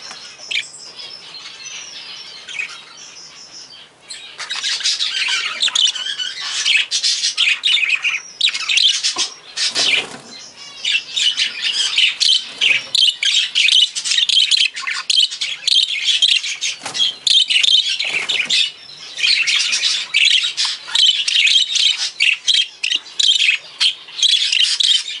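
Dense flock of English budgerigars squawking and chattering continuously, loud and close, with rapid overlapping shrill calls and brief quieter gaps.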